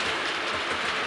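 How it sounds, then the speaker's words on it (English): A model train rolls past on a hobby layout, a steady close rush of wheel noise and clatter filling the short stretch without pause or voices. "I'll just let the trains pass for a second."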